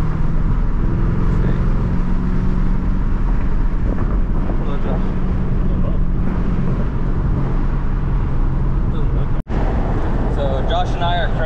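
A car cruises along Ortega Highway on a relaxed, spirited drive, with a steady roar of road and wind noise running throughout while people talk over it.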